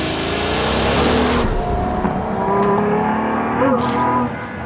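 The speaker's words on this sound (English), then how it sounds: "What an engine sound." A Pagani Utopia supercar engine revs hard and loud up close, turbocharged, with rising and falling pitch through sharp throttle blips and gear changes, under a continuous roaring drone.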